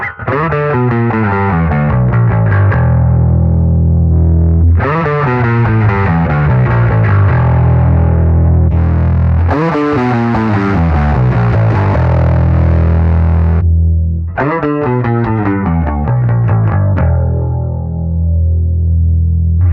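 Distorted electric guitar through a Quad Cortex amp modeler preset, playing loud chord phrases with effects, in several bursts separated by short pauses; no voices.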